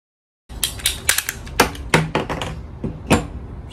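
A cutter snips through the end of a 3/4 inch PEX-A pipe in a series of close, sharp clicks and crunches, after half a second of silence.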